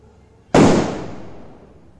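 A single loud, sharp hydro firecracker (Diwali sutli-type cracker) blast after a moment of quiet, its boom ringing out and slowly fading over the next second and a half.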